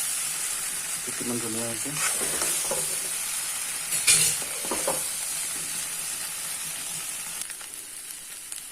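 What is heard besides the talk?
local chicken curry frying in pan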